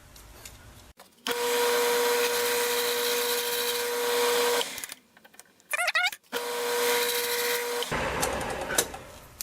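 A lathe turns wood down to a marked diameter, a steady motor whine broken by a pause and followed by a second run, with a few handling clicks in between.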